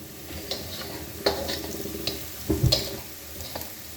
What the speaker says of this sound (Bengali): পেঁয়াজটা যখন একটু ভাজা হয়ে যাবে